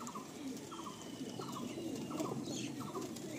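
Pigeons cooing inside a pigeon loft, soft repeated coos layered over a low murmur of birds, moderately close and fairly quiet, with no talking.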